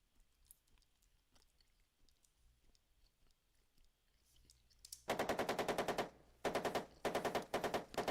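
Tanks firing guns in the Armoured Commander II video game: after quiet faint clicks, loud rapid machine-gun bursts rattle in three long strings with short gaps, sharp and close.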